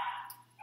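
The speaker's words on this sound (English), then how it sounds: "Sorry about my dogs, they go crazy when somebody shows up." Indoor dogs bark excitedly at someone arriving, a short sharp burst at moderate distance.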